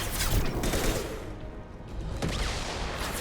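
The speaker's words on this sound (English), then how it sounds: "I probably might need to use the heavy weapon now." Heavy weapon gunfire in the Mass Effect 2 video game, a loud rapid burst of blasts and crackling impacts that dips briefly then resumes, with no talk over it.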